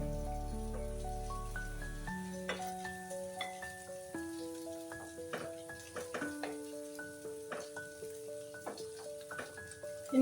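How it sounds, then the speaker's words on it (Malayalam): Bengali fish curry gravy bubbling in a pan, small popping and sizzling bursts in an uneven rhythm beneath a steady tonal backdrop of music. "നമ്മുടെ കറിയുടെ ഗ്രേവി നന്നായിട്ട് തിളച്ചു"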